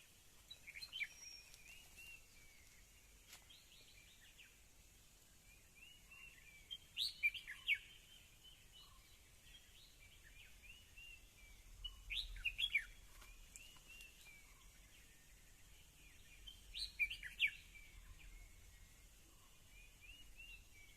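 Birds call from trees in the forest of the Kalsubai Harishchandragad wildlife sanctuary, faint, distant bursts of chirping recurring every few seconds over a quiet background hush.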